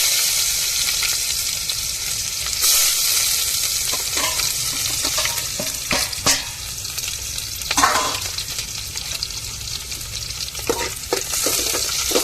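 Onion frying in hot oil with mustard seeds gives a steady, close, bright sizzle, broken by scattered sharp stirring clicks and scrapes throughout, with no talking.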